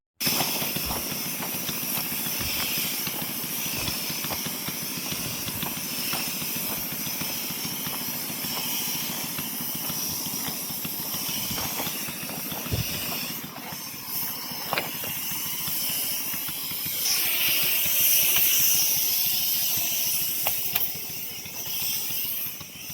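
A sprayer working in a farm field, a steady pressurized hiss with an engine-like drone underneath, punctuated by occasional soft thumps and clicks, continuous and fairly close throughout.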